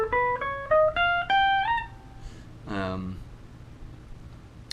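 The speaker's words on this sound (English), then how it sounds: "There's a lot of whole tone scale stuff going on in there, stuff that sounds like this." Electric guitar plays a whole-tone scale passage: a quick run of single clean notes stepping upward, then one brief ringing note. Quiet and alone.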